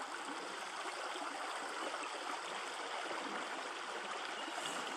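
A small wild forest stream, about a metre wide, rushes and burbles steadily in May, a constant close wash of flowing water with no voices.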